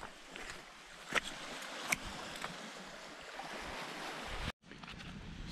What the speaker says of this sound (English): pretty nice little rocky kind of a beach, like it all is around here